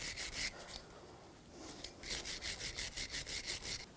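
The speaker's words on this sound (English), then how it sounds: "If there's a lot of debris on them, you can use a wire brush." Wire brush scrubs debris off the front brake parts of a 2007-2013 BMW X5, a few quick rasping strokes, then a pause, then a rapid run of about a dozen even back-and-forth scrapes, close and fairly quiet.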